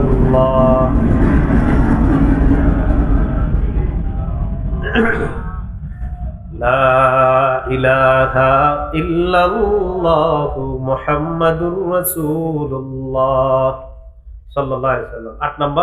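A train rumbles past close by, a loud broadband roar that fades out after a few seconds, followed by someone speaking at length.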